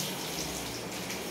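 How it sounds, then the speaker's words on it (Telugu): Water poured in a steady stream straight onto a newborn baby's spine during a bath, a continuous close splashing rush with no voices. "ఆ వాటర్ స్పైన్ మీద వేసిన స్ట్రైట్గా పోసే విధానం"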